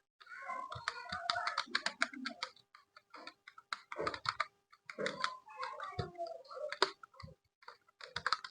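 Java code being typed on a computer keyboard gives quick bursts of soft, close key clicks with short pauses between words.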